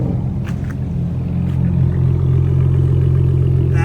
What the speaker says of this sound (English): That is the noise from the V6 with a mid and rear muffler delete